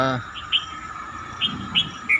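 Short, bright sparrow chirps come in a few separate bursts over a quiet morning background, with a brief murmur of voice at the very start.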